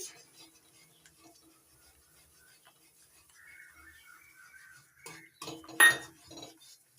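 A spoon clinks and scrapes faintly against a pot as semolina is stirred into boiling salted water, mostly quiet, with a brief burst of louder metallic clinks near the end.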